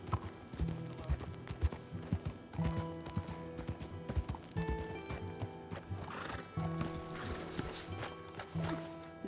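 Steady clip-clopping horse hooves in Red Dead Redemption 2 with occasional whinnies and jingling tack, layered with game-style ambient sound effects.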